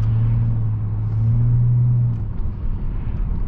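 BMW 730d E38 diesel sedan with 184 hp heard from inside while driving, a steady low engine drone with a strong hum that fades slightly toward the end, with no voices over it.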